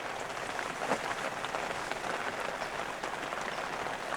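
Steady rain patters on stone walls in a Jeju farming village, a dense, even hiss of drops with a few sharper taps, continuous and close.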